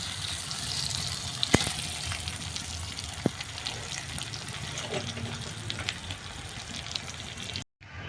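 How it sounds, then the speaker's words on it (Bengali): Onions frying in a pan for a spicy fish curry, giving a steady sizzle with a watery crackle throughout, a couple of sharp clicks, and a sudden cutoff near the end. "পেঁয়াজটাকে ভালো করে ভেজে নেবো লাল লাল করে একদম।"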